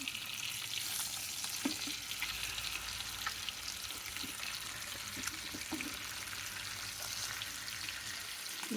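Okra frying gently over a medium flame gives a soft, steady crackling sizzle with faint occasional stirring taps, quiet and even throughout.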